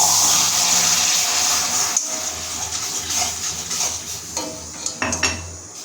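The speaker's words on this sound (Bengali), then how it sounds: "আর একটু নাড়তে থাকবো এবার আমি এর মধ্যে অল্প জল দিয়ে দেবো" Caramel being stirred in a metal pot off the heat, then a splash of water added: scraping and clinking of a utensil against the pot, with a brief hiss and bubbling burst near the end, close and moderately loud.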